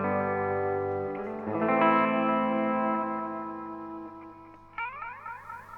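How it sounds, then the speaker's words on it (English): Sinvertek Fluid Time MKii delay pedal with kill dry engaged: sustained guitar chords fade into repeating echo tails with no dry signal, then a brighter strum near the end trails off in cascading delayed repeats, loud and alone with no talking. "you can turn on kill dry. So then when you let go, you don't get any dry signal at all. You only hear the delay."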